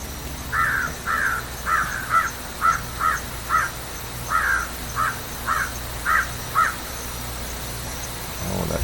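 A crow caws repeatedly outdoors, a steady series of about a dozen harsh, evenly spaced calls at moderate distance, standing out over a constant low background hum.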